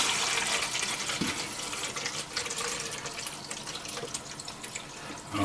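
Water pours steadily into the side reservoir of an Edoolffe 259T programmable drip coffee maker, a continuous splashing, trickling fill that stays close and fairly loud throughout, with no talking.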